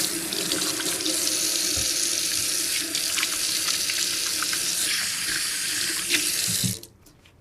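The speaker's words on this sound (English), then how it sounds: "Let me wash my hands." Hands are washed under a running kitchen tap. The water flows steadily and close for several seconds with light splashing, then stops abruptly.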